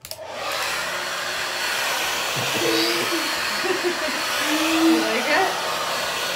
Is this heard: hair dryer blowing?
yes